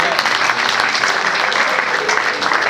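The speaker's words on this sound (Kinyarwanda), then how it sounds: "dukomere umushumba amashyi menshi" A church congregation applauding a pastor as she is welcomed, steady dense clapping from many hands close by, with voices faintly mixed in.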